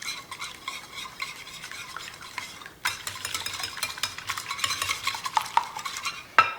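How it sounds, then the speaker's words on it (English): An egg being whisked for chicken parmesan, with quick rhythmic clicks of a utensil against a bowl that grow busier and louder partway through, ending in a sharp knock, close and with no voices. "This egg I have, I'm gonna mix it."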